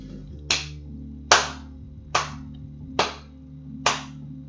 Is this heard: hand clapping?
yes